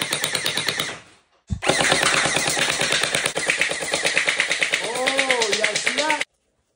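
A Gel Blaster Galaxy pistol firing gel balls at about nine rounds per second, loud rapid buzzing bursts with a brief gap after the first, then a long sustained volley with a whirring motor hum and a voice speaking over part of it.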